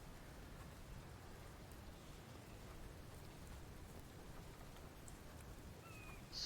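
Steady rain pours down in the dark village setting of the survival video game The Infected, a dense, even hiss that continues without a break, with no voices over it.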